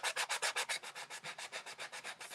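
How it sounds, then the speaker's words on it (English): A sanding block rubs back and forth over a piece of wood in a steady rhythm of about seven strokes per second, close and scratchy. "So let's just sand this down"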